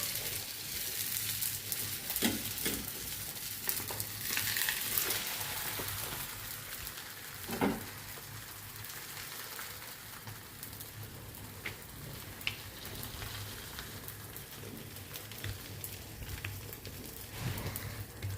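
Holige fries in oil on a hot tava with a steady close sizzle and crackle, with occasional soft taps and scrapes over the constant hiss.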